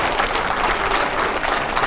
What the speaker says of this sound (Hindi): जोरदार तालियां अगले सवाल से पहले।